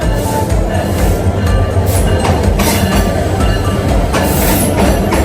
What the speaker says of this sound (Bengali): পাক্কা 1 ঘন্টা লেট করে পদ্মা এক্সপ্রেস মাত্র ঢুকতেছে